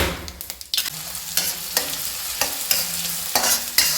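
Onion and cumin frying in hot oil and stirred in a pan, with a steady sizzle and sharp repeated spoon scrapes, close and loud, with no voices.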